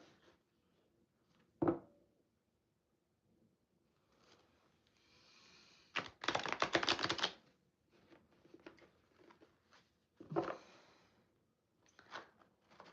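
Playing cards riffle and snap in a few short bursts, one longer shuffle in the middle, with quiet pauses and light handling clicks between.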